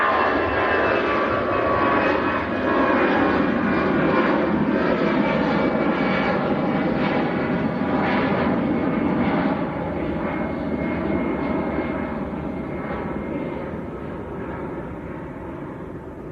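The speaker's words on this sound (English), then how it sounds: "A320 lifting off." An Air Portugal Airbus A320 takes off from Manchester Airport. Its jet engines give a loud, sustained roar that slowly fades and thins as it climbs away, with no speech over it.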